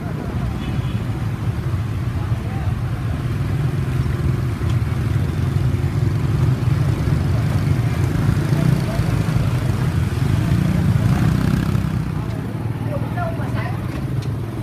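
Busy Hanoi street traffic with motorbikes and cars, a steady dense rumble of engines close by throughout, with voices mixed into the din.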